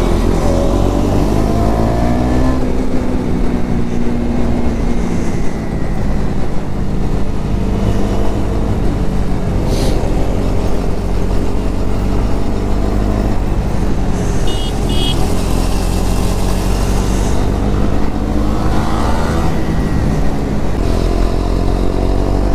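Motor vehicles roar past on a road, likely motorcycles, a loud continuous engine drone with rising and falling passes and revving throughout.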